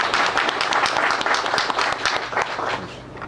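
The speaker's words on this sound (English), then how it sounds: "congratulate Waziri by a round of applause" A crowd of officials and guests gives a round of applause at a ministry handover ceremony for the Youth Affairs docket, steady dense clapping that stays loud for the whole stretch and fades slightly at the end.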